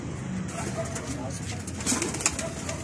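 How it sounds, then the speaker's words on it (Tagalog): Pigeons cooing in a loft, soft repeated coos over a steady background hum, with a few brighter calls near the end and some faint talk. "yung mga ibon natin is naka-standby ngayon"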